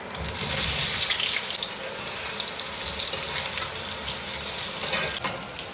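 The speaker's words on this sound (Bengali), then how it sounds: "এরকমভাবে হালকা করে ভেজে দিলাম।" Young jackfruit fries in mustard oil with a loud, dense, hissing sizzle that holds steady throughout, close and with no voices.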